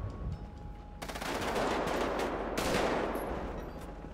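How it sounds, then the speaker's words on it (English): Rapid automatic gunfire during a police shootout in GTA 5, a dense, crackling barrage that starts abruptly after a quieter moment and swells louder, with overlapping bursts continuing to the end. "they are still shooting at the cops"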